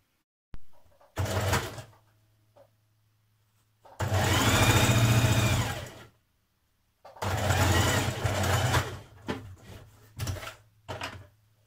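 A sewing machine stitches pocket pieces onto skirt panels in several runs of steady whirring, loud and close, with short pauses between bursts and no talking.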